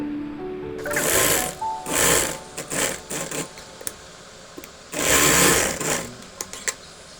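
A sewing machine stitches a V-neck petticoat in several runs: two short bursts, scattered brief stitches, then another steady burst followed by a few quick taps, close and fairly loud with no talking.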